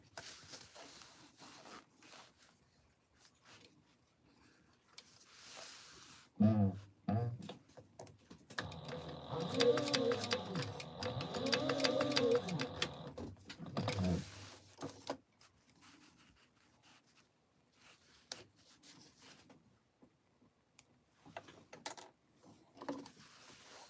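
A sewing machine stay stitches thick corduroy, running in a rapid rhythmic whir for several seconds with mechanical clatter, close and moderately loud, framed by quieter handling sounds of fabric and tools.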